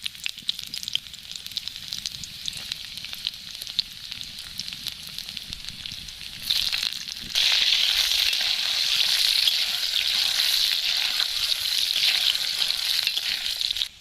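Black cumin seeds, chopped ginger and garlic fry in a pan, crackling at first and then jumping to a louder, dense steady sizzle midway, no voices.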